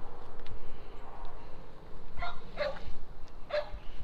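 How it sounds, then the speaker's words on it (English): A dog barks a few times at a distance over a steady outdoor noise bed, the barks short and moderately faint, spaced out near the middle and end. "Still my dog barking too."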